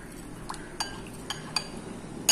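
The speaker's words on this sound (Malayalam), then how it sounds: "ഒരു 3 ഡ്രോപ്പ് പിസ്ത എസെൻസ് ഒഴിച്ചിട്ട് നന്നായിട്ടൊന്ന് മിക്സ് ചെയ്യാം" A spoon clinks lightly against a container while pistachio essence is mixed into milk for a custard pudding: a few sparse, bright taps over quiet background, with no speech.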